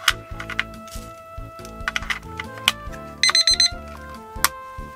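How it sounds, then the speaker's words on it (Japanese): A Seiko radio-controlled alarm clock rings indoors with sharp electronic beeps in quick bursts, close and clear, mixed with clicking and tapping handling sounds. "まあ一般的な目覚まし時計ですね"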